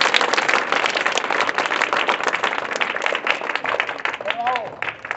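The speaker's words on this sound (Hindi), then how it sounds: "ताली बजा दो।" Classroom applause during a maths lesson on factors and multiples: a dense, steady patter of many hands clapping that runs the whole stretch, with children's voices mixed in beneath it.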